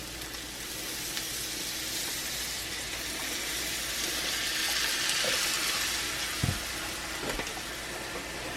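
Beef stock pours into a hot cast iron pan of flour-coated beef, giving a soft continuous hiss and sizzle with light liquid splashing and a couple of faint clinks, fairly quiet with no speech.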